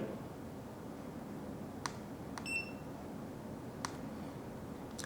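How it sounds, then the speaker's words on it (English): A digital nuclear radiation detector alarm gives a few short, sharp electronic beeps at intervals over a quiet background hiss, with a brief tonal chirp in the middle. "This means the alarm is activated now"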